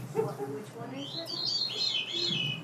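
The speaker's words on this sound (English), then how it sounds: "Veery. It's a veery. It's a thrush." A veery thrush singing in the mountains, its airy, descending spiralling phrases fairly distant, heard after a short bit of low talk at the start.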